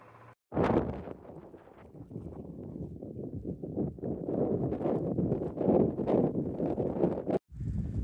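Strong gusty wind in the Lake District, England, buffets the microphone almost continuously, a loud roaring rumble with brief drops, heard close and with no voices.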